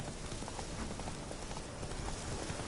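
Roach the horse's hooves clip-clop steadily in The Witcher 3, a dense, continuous trotting patter at moderate distance with no speech.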